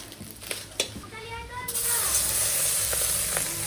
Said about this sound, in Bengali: মূলা মাছের ভাজা হচ্ছে।